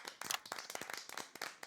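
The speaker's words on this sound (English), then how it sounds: "Tiny claps." A small burst of applause from the video game Not For Broadcast: a few light, scattered claps ringing out in quick succession, close and crisp, with no talking over them.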